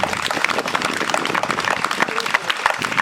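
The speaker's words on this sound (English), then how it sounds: "you can clap for that" Crowd clapping at a community talk on genocide and slavery, an irregular, choppy burst of hands with uneven sharp claps and some voices mixed in, fairly close and loud.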